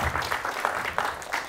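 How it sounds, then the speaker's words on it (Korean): An audience at a fathers' parenting talk concert gives a round of applause, a short burst of overlapping claps with distinct sharp hits standing out, moderately loud and fairly close. "박수 한번 주세요"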